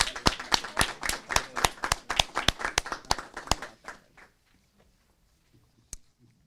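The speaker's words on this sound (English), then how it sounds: "Let's give them one more round of applause." Audience applause at a Berlin Board of Education meeting: a few seconds of loud, quick, rhythmic clapping from the room that dies away quickly, with one stray clap afterward.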